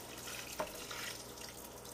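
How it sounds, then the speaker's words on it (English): Water is poured into a Crock-Pot Lift & Serve digital slow cooker, a quiet, steady trickle with one small splash near the start. "pour the water in."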